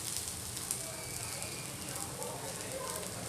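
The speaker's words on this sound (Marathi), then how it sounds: "अशा पद्धतीने कांदा भाजून घ्यायचा आहे" Onions roast slowly in a pan until chocolate brown for a chicken thali, giving a soft, steady sizzle and crackle up close with a voice talking over it.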